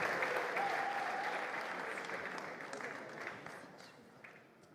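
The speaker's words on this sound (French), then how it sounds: "On peut l'applaudir et on va découvrir maintenant son œuvre." Audience applause at a festive evening congress celebration marking an organisation's 100th anniversary, a dense steady clapping that fills the room and slowly fades toward the end.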